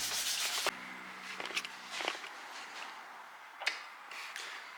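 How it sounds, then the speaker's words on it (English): Rough, scratchy rubbing strokes up close as a motorbike part is sanded before primer, a few long hissing passes followed by shorter intermittent scrapes, fairly quiet with no talking. "So more sanding to do, better prep"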